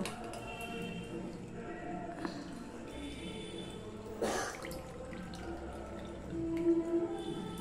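Curdled milk chhena, split with vinegar, being rinsed under running water in a kitchen sink for rosogolla, a steady trickle and splash with a brief louder gush midway, with no talk.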